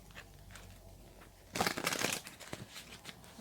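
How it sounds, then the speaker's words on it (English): A deck of tarot cards gets a brief riffling shuffle, a short papery burst of rapid flicks rising out of a quiet room and fading again within about a second. "Let's give it one more shuffle."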